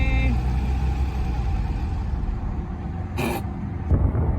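A 1998 BMW 328is E36 with a 5-speed, long parked, runs with a low, rough engine rumble that is loud and close. A brief sharp hiss breaks in near the end, with no talking.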